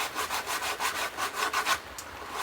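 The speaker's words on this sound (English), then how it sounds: "I'm going to take a small bit of it, and I am going to sand" Sandpaper rubbed back and forth on wood, including wet wood, in quick regular strokes, about a dozen close raspy swipes, faint and without talk.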